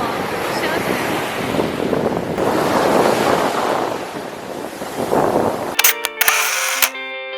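Ocean waves wash onto a shelly Miami beach, a broad, loud rushing surf with wind buffeting the microphone, and it ends in a burst of clicking handling noise.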